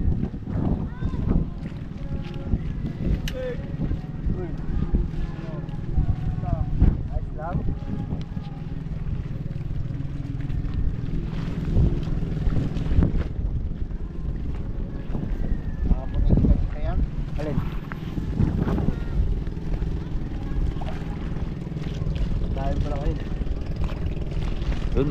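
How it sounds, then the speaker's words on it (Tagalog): A boat ride near Siargao, with a steady engine drone and buffeting wind noise running throughout, loud and close, while people talk over it. "Yan yung bangka natin."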